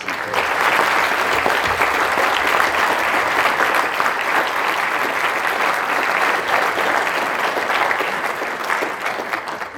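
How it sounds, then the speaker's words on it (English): An audience at a Veterans Day ceremony at St. James High School breaks into loud, sustained applause, a dense and even roar of many hands clapping with no voices. "So let's give him a round of applause."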